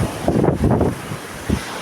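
Strong wind gusting hard against the microphone during kite flying, heavy buffeting roar in uneven bursts, close and loud.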